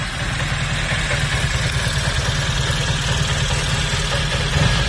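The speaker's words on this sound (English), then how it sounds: "here it is idling again." A Honda N600 engine with a freshly refitted carburetor idles steadily at close range, a low, even rumble with a faint rhythmic chug that holds constant throughout.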